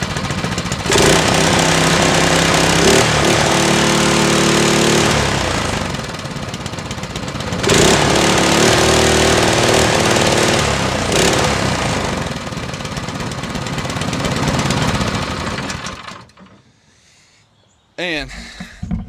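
A 6.5hp mud motor with its governor and factory exhaust still fitted roars loud and steady at close range for about sixteen seconds, then cuts out, leaving a brief clatter.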